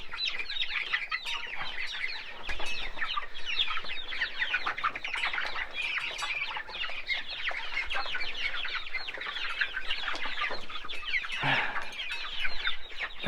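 A flock of chickens clucks and squawks nonstop in a barn, many birds calling at once in a dense, busy chorus close by, with a brief wing flap or thump midway.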